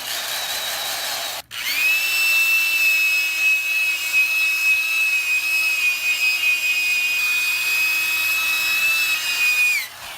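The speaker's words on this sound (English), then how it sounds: "It's just a spin brush you can connect to a drill." A drill-driven spin brush scrubs dirty car carpet during an interior detail, a loud steady high-pitched whine running about eight seconds after a brief start, with a short pause near the beginning.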